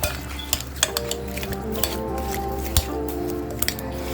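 Apples being stirred into a pumpkin mixture in a bowl, with soft wet squishing and scattered clinks of a utensil against the bowl, irregular and close.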